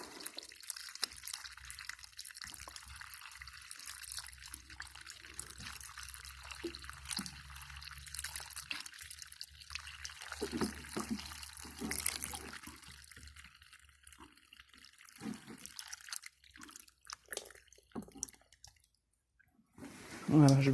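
Water is poured into pots holding winter plant cuttings, heard as a faint, intermittent trickle and dripping in a quiet room, with a voice speaking now and then.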